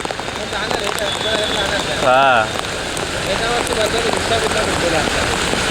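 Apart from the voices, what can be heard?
heavy continuous rain in Mumbai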